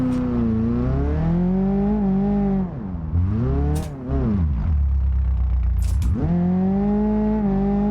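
Engine drone from a Nissan Qashqai in BeamNG.drive, driven with the handbrake locked on village roads, rising and falling in pitch as it slides, with brief scraping bursts and a deep dip mid-way.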